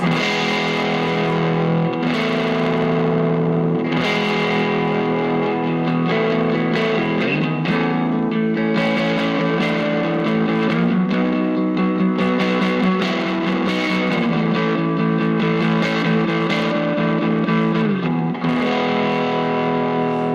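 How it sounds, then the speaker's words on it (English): A distorted Gibson Les Paul Studio '50s Tribute electric guitar with P90 pickups plays a thick, dark, murky riff for about twenty seconds, loud and steady, with chords and sliding notes and no voices. "I like this sort of slightly darker, murky, bassy guitar sound"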